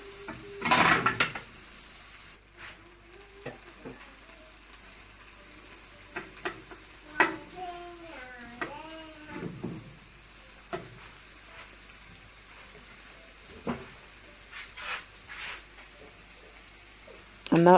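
Egg being broken into small pieces in a frying pan for prawn fried rice, with scattered scraping and clinking of a utensil against the pan over a low sizzle, alongside talking.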